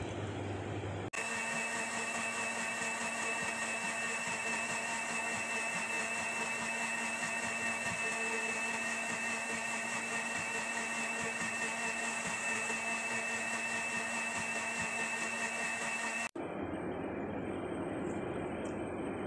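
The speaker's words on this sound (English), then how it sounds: "And we need to blend it now." An electric blender runs steadily on a parsley drink made with lemon juice and water, giving a loud continuous whir with a strong motor tone that starts suddenly and stops after about fifteen seconds.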